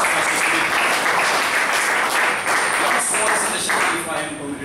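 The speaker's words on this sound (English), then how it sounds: "give a round of applause to Toastmaster Sudeep" Audience applause for Toastmaster Sudeep at a Toastmasters evaluation session, sustained clapping from a roomful of people, steady and fairly loud, then fading slightly toward the end.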